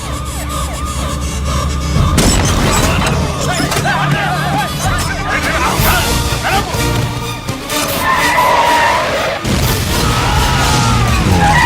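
A bomb explodes in a Telugu action film scene, a sudden loud burst cutting into a dense mix of wailing siren-like tones, crowd babble and score, with another heavy jolt near the end.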